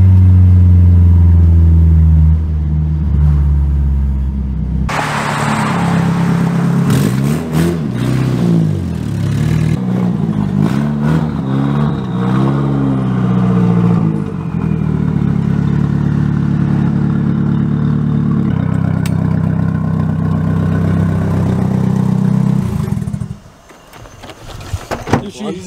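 A Nissan S14 engine revs hard for about twenty seconds, rising and falling in loud sweeps with rough clattery edges that fit backfires, then cuts off abruptly near the end.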